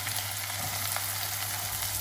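Shallots sizzling in hot oil in a pan while cooking a ginger curry, a quiet, steady crackle and hiss with no talking, a low hum underneath.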